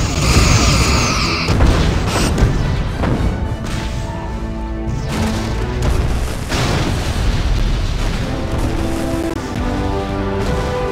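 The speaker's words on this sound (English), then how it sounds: "Simulated enemy ship has been destroyed." Torpedoes striking and destroying an enemy ship in the space combat game Bridge Commander, a loud, continuous barrage of booming blasts and crashing explosions that rumble on for the whole stretch, with no voices.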